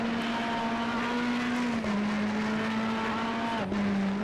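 McLaren race car in a sim racing game, a steady high engine drone with small pitch dips as it shifts or lifts, loud and continuous with no talking.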